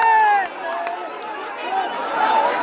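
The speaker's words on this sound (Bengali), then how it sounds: "চোখের মনি বিজয় হওয়ার পরে সব উল্লাস" Crowd cheering at a boat race after a win in Barpeta, Kandapara, with shrill whistles and excited voices mixing in a loud, continuous outdoor roar.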